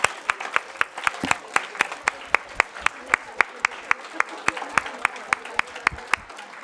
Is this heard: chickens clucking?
no